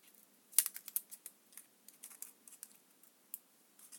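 Scissors snipping through a paper embellishment for a junk journal, a quick run of small crisp cuts and rustles, close and quiet, with no talking.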